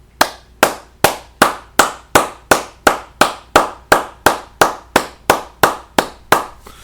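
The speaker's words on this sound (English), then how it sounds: "It's like long ovation." One person claps in a slow, perfectly even rhythm, about seventeen sharp, close claps over roughly seven seconds, each ringing briefly before the next, with no voices.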